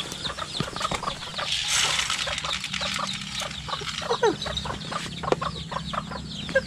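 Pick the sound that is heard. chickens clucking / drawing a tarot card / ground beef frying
chickens clucking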